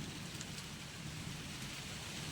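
Heavy rain pours down in a steady, dense broadband hiss with no breaks, a constant wash of sound heard from indoors.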